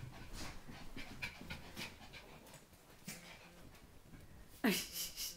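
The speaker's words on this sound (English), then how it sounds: "Crazy dog." A dog panting, quick and steady at close range, with soft rhythmic breaths running throughout and a sharper burst near the end.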